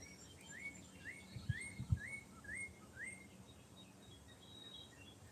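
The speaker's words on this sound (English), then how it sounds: "You guys hear the birds?" Small birds chirp in a quick repeating series of rising notes, moderately near, over a quiet outdoor background with a couple of soft thumps.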